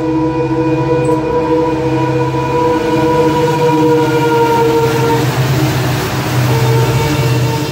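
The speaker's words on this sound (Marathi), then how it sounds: "गाडी आली, गाडी लोकल आहे, लोकल" A local commuter train arrives, rumbling steadily nearby, with sustained low engine drone and tonal hum throughout, loud and continuous with no voices.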